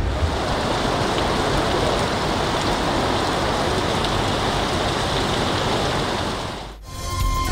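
Torrential rain pours down steadily in Karachi, a dense, loud hiss and roar with a brief dip near the end.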